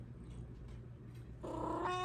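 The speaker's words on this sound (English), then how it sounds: "You naughty kitty." A pet cat named Minnie close by, a soft low purr and faint rustling giving way to a short, tonal meow near the end, quiet and alone without talk.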